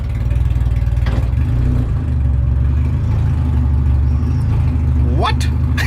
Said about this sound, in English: It's barely idling. Just like kind of sounding like shit.